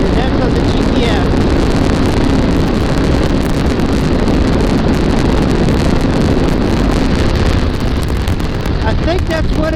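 A motorcycle riding cross country at about 100 miles an hour, heavy wind buffeting the microphone over a constant loud engine roar throughout.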